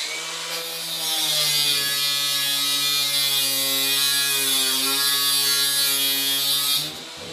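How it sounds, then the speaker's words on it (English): An angle grinder cuts through a metal hinge strip with a loud, continuous high-pitched whine and gritty hiss that holds steady for several seconds before winding down. "I'm going to cut it with my angle grinder"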